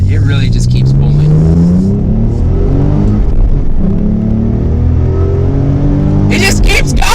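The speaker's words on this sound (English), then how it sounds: "I think the V6 is a little more fun because it just keeps pulling, man." Ford Mustang S550 V6 engine pulling hard under acceleration, a loud continuous rising drone that keeps building, with someone talking over it throughout.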